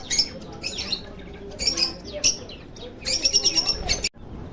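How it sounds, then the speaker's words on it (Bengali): Caged cockatiels at a bird market give sharp, shrill squawks and chirps in short bursts, several in quick succession near the end, close by over a low background murmur. "ককটেল।"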